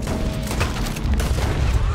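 Gunfire in a Red Dead Redemption 2 shootout, with a dense spread of loud, booming shots over a continuous low rumble for the whole stretch. No voices are audible.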